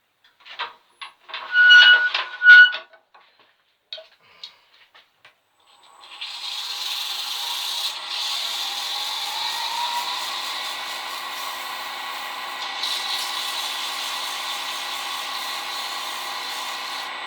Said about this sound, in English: I'll get that sanded up.